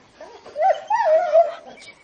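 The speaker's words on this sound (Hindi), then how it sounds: "अपनी नींद पूरी करके त्रिशा करीब 10 बजे योगी के भौंकने से जगी।" A dog whines and barks in a short, drawn-out yelping call, close and fairly loud, in a Hindi audio drama scene.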